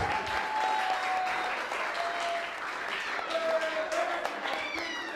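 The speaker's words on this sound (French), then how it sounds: "On l'applaudit s'il vous plaît. Standing ovation." Loud, sustained audience applause fills a hall during a standing ovation at the finale of the Genie Milenyal 2023 competition, dense clapping with a few voices and whistles mixed in, steady throughout.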